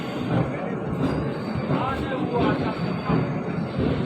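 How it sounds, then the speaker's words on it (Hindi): Train pulling into Saharanpur on the route from Dehradun to Amritsar, a dense continuous rail rumble with rattling carriage noise, loud and steady throughout. "ट्रेन रुकती है"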